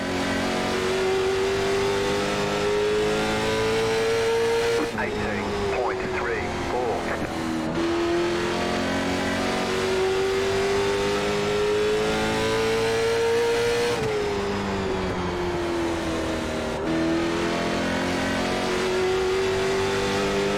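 Late model stock cars race at Irwindale, a steady loud engine drone rising and falling in pitch through shifts and corners, with other cars audible nearby and a voice speaking over the noise.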